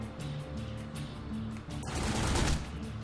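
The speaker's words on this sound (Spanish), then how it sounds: "Es que escucho disparos." Gunfire in The Godfather video game during a gang war, a continuous rattle of shots over a steady game background, swelling louder near the end, with no talk.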